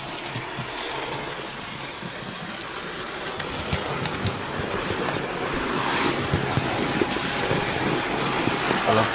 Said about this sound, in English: So I've set the controller to halfway, and wow, she's running very well.